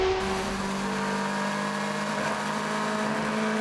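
A P2 prototype race car running flat out through Maggots at Silverstone during a six-hour endurance race, its engine a loud, sustained high-pitched whine at close range that rises steadily in pitch as the car accelerates.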